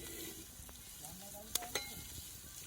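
Green chilies fry for thecha in a pan over a wood-burning chulha outdoors, with a faint, low sizzle and two quick metallic clinks of a utensil partway through.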